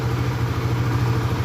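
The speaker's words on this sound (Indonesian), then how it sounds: "kalau pagi saat kita hidupin motor ini" A Honda Sonic motorcycle with the K56 engine idles just after a cold morning start, a steady low, rhythmic thrumming pulse with faint mechanical clatter, close and constant, no voices.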